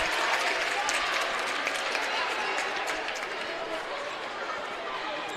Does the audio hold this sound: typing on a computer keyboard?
no